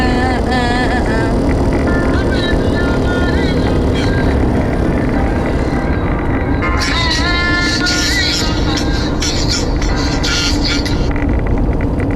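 A car on a long road trip through Kenya hums along with a steady low engine and road rumble, loud and unbroken, while people talk over it inside the cabin.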